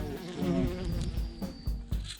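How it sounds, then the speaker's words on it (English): A bee buzzes around close by during work on a VW T5 van conversion roof vent, its drone rising and falling in loudness as it moves about over several seconds. "This bee really wants to play today."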